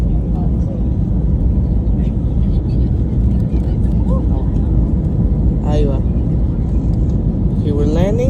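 Loud, steady roar of a JetBlue Airbus A321neo airliner landing in San Juan, a continuous engine and airflow rumble heard from the cabin throughout, with people talking over it.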